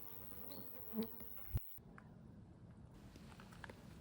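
Insects buzz faintly around summer hedgerows beside a quiet country lane, a thin steady drone with a couple of brief louder passes and a sharp knock midway.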